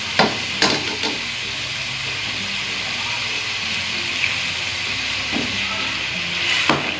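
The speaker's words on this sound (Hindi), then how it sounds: "और चनों की थोड़ी सी यखनी और डाल देते हैं" Chickpea stock poured into a sizzling chickpea korma with seekh kebab in a pan, giving a steady loud frying hiss with occasional sharp clicks of stirring, close and continuous.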